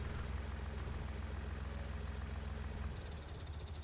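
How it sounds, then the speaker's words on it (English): A truck engine idles in Farming Simulator 19 on the Felsbrunn map, a steady deep rumble that holds constant and then drops slightly near the end. "I love the engine sound on that"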